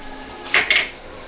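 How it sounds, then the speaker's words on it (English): Two quick clinks of a utensil against a bowl while stirring cornstarch into apple juices, short and close, with no talking. "Stir quickly until cornstarch dissolves."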